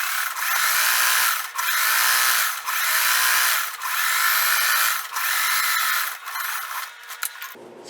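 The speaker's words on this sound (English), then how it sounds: "I'm just going to sew close to the edge" Sewing machine stitching close to a fabric edge on an upcycled dress, in loud rapid bursts of about a second each separated by short pauses, ending with a brief halt.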